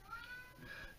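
House cat meowing close by in a workshop, one drawn-out meow lasting about a second, fairly quiet.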